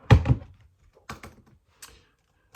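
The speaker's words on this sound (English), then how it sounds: "I also like typing sounds." Scattered keystrokes on a computer keyboard, a quick burst of clicks followed by sparse, isolated taps with quiet gaps between them, close and clear.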